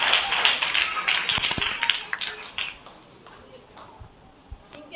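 A church congregation at a vacation Bible school breaks into a burst of clapping that fades after about two seconds into scattered, lighter claps.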